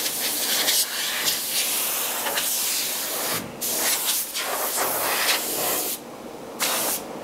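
Compressed air from an HVLP spray gun blasts dust off a wooden door in steady close hissing bursts, with short pauses between passes and no talking.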